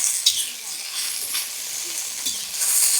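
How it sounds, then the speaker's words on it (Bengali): Elephant foot yam frying in a pan at home, a steady soft sizzle with faint stirring scrapes throughout, fairly quiet and even, rising slightly toward the end. "একটু ভেজে নিচ্ছি প্রথম"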